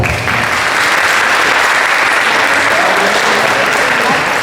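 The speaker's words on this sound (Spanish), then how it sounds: "les pido un fuerte aplauso" An audience at a book presentation at a preparatory school applauds the author, loud, dense and sustained clapping filling the hall from start to finish.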